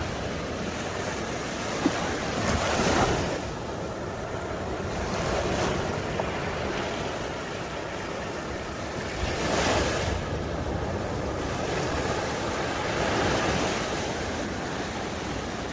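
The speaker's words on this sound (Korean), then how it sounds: "우리 같이 파도 소리 한번 들어볼까요?" Ocean waves roll in and break on the beach at Da Nang at dawn, with a few gentle swells surging and receding under constant wind noise; no talk.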